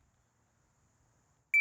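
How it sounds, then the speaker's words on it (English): A shooting drill timer gives a single sharp electronic beep after near silence, loud and close, still sounding as it ends. "I was sitting here waiting for the beep to go off."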